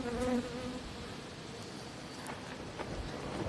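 Honey bees buzz continuously around hive colonies, a dense, close, steady hum with occasional louder passes.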